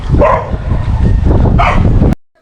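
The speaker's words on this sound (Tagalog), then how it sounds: "medyo nag-mute tayo dito kasi napakaingay talaga ng aso" A dog barks loudly and close by in a run of harsh, overlapping barks that fill the clip and then cut off abruptly into silence.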